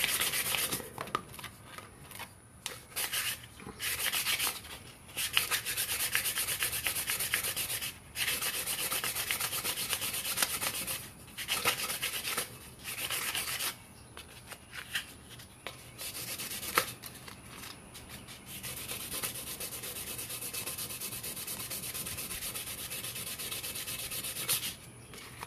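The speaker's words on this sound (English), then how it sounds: "And you just sand around." A cup being sanded by hand all the way around, with steady back-and-forth rubbing strokes of abrasive paper that run almost without pause, close and alone, broken only by a few short gaps.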